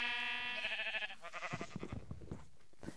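A sheep in Minecraft gives one drawn-out, wavering bleat close up, which fades into soft rustling game noise.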